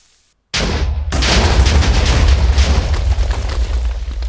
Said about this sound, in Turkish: Koskoca köyü patlattım ya.